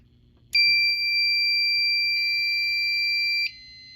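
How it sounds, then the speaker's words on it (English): A Fire-Lite MS-5UD fire alarm horn strobe sounds one loud, steady electronic tone for about three seconds, starting abruptly and cutting off sharply, with low background hum and no talk. "Again, that was the horn strobe and the remote strobe."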